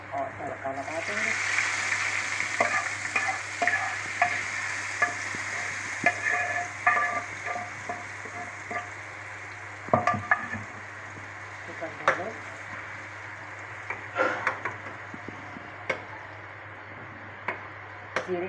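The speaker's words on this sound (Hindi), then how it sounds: "फिर मैं इसे तड़का डालूँगी" Hot oil crackles and sizzles steadily as cumin and chillies are tempered for cucumber raita, with scattered clinks and stirring, while someone talks over it.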